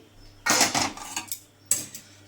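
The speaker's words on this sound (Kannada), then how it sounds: "ಎಲ್ಲದನ್ನು ಒಂದೇ ಬೇಸನ್ಗೆ ಹಾಕೋತಾ ಇದ್ದೀನಿ" Clinks and clatters of ingredients and utensils going into a metal basin while preparing curry leaf chutney powder, two sharp bursts of metallic rattling close by, separated by a short quiet gap.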